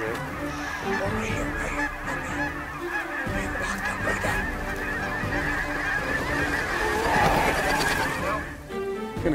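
A flock of geese honking continuously over a big pea field at dawn in Saskatchewan, with many overlapping calls, some near and some distant, forming a steady chorus.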